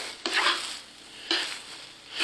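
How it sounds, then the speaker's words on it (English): Spanish rice being stirred with a metal spoon in a Teflon pan, three short scraping, rustling strokes spaced about a second apart, close and fairly quiet with a soft sizzle between them. "I want to stir this up a little bit so that everything's incorporated"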